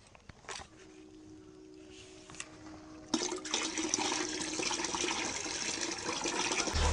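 About five litres of cow urine is poured into cow dung water to make a seed-treatment mix. After a quiet start with faint tones, a steady close gushing pour runs through the second half.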